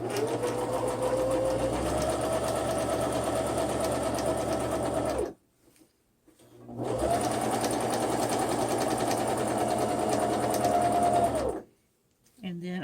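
A sewing machine runs steadily, stitching fabric in two long bursts of several seconds each with a short pause between them, its motor whirring close and loud.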